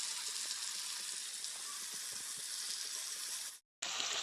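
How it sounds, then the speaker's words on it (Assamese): Tomatoes with salt cook in a pan over a lowered gas flame with a steady, even sizzle and hiss that runs almost without change, then cuts off briefly just before the end, with no voices. "বিলাহীখিনি ধুনীয়াকৈ সিজিছে"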